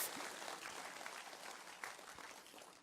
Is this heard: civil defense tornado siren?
no